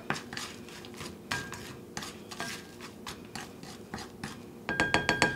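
Peaches and sugar are shaken in a metal skillet, giving a series of light clattering rattles and scrapes in uneven bursts, ending in a quicker run of rhythmic shakes.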